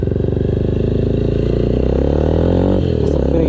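A GPR 250 motorcycle engine runs steadily and loudly up close with a continuous harmonic drone, shifting pitch briefly near the end during a solo ride.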